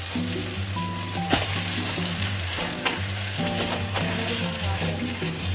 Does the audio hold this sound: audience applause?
no